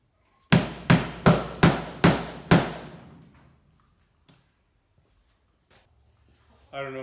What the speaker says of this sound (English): It's just a plastic rivet. I'm going to press this one in here.